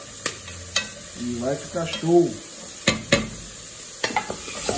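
Dried beef (carne seca) fries in pork lard in a pan, a steady sizzle broken by sharp clacks and scrapes of stirring. A person speaks briefly in the middle.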